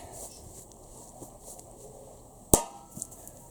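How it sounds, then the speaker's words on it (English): A single sharp, loud khukri knife strike chops a coconut in half outdoors, a crisp close thwack standing out against quiet background ambience, followed by a couple of faint knocks. "Oh, look, we've got a coconut. Got a coconut chop."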